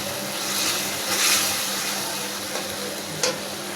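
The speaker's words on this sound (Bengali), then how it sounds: "এটা ভালোভাবে কষানো হবে।" Spices and chopped tomato sizzle steadily in hot oil for a pangas fish and pointed gourd curry, with a continuous frying hiss and occasional stirring scrapes.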